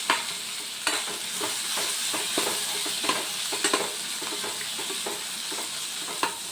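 A curry cooking in a pan is stirred steadily under a continuous sizzle, with soft scraping strokes and occasional louder spoon knocks against the pan, close up and without any talking.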